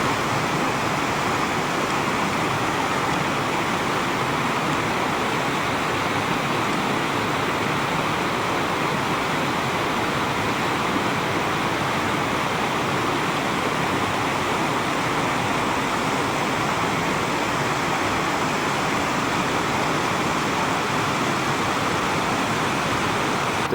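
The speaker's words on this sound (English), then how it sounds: "The creek below." A creek rushes below a wooded trail to Adams Falls near Grand Lake, Colorado, its broad steady roar of whitewater filling the air loud and unbroken throughout.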